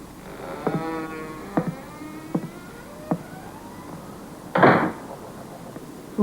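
A door closing at the end of a scene in a French TV film, heard as a single firm thud-and-rattle of moderate loudness following several soft knocks or footsteps in a quiet room.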